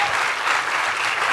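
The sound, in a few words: audience clapping loudly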